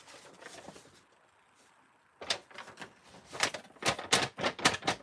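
Sheets of coffee-dyed paper with lace are handled, giving crisp, dry crinkling in a quick run of sharp rustles that grow louder and busier after a short quiet pause.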